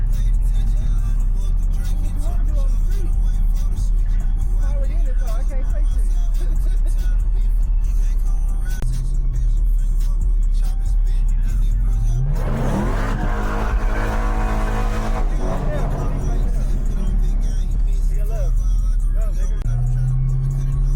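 A Chrysler 300 idles with a low, steady engine drone, then surges into a loud, sharp rev and acceleration with brief tire noise before settling back down, heard up close.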